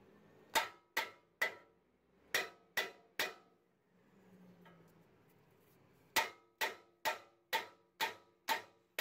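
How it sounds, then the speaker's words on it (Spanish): Sharp metallic hammer blows strike around the center of a Toyota Tundra brake rotor to free it from the hub, ringing out in two bursts of steady, evenly spaced strikes, with a brief quiet pause between them. "Ahora con el martillo le golpeamos alrededor de la área del medio."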